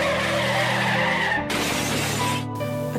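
Car tires skid and screech loudly for about three seconds, with a sharp break in the middle and another near the end where the sound cuts out briefly.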